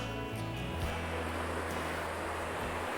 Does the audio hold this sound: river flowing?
yes